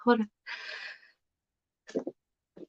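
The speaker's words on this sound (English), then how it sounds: "And I feel a sneeze coming on" A single sneeze bursts out between bits of speech, a sharp breathy blast followed by short vocal sounds, close and fairly loud.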